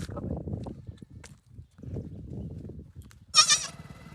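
A single short goat bleat rings out near the end after several seconds of low rumbling handling and shuffling noises.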